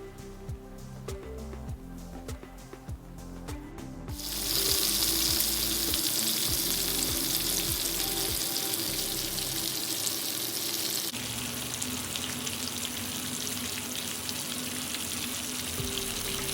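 Fish fry in hot oil with curry leaves and fennel seeds, crisp KFC-style, giving a loud steady sizzle. It surges suddenly partway through and then keeps a close, even hiss, with faint clicks and tapping before the surge.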